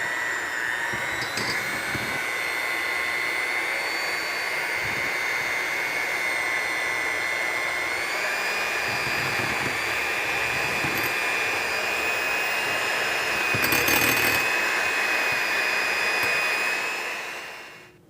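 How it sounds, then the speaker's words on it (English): An electric hand mixer runs at low speed to crush baked cake into crumbs, a steady close motor whine that holds for most of the stretch and then winds down at the end. "I am going to use my hand mixer to help me crush up the cake"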